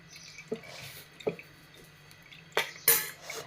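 Ragi batter poured in small amounts from a spoon, a few soft wet drips and squishy plops close by, spaced irregularly over a few seconds, with no talk.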